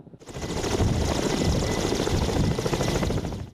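A Ka-226 helicopter flies nearby with a loud, steady rotor and engine roar, a dense broadband throb that holds its level throughout before easing off at the end.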